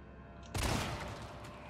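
A gunshot in the Resident Evil video game, fired at a zombie that will not die, bursts in loud and sudden after a quiet moment and leaves a long dense rumbling tail. No talk is heard.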